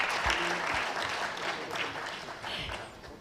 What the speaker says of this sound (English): they deserve a big round of applause for wishing us well